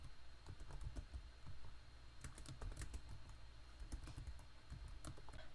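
Python code being typed on a computer keyboard comes through as a steady patter of fairly faint keystrokes, with occasional sharper key hits and no talk.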